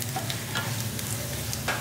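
Curry leaves, dried red chili and crushed garlic sizzle steadily in hot oil during a South Indian tempering for brinjal and beans dishes, a continuous close frying hiss with faint crackles and stirring, no voices.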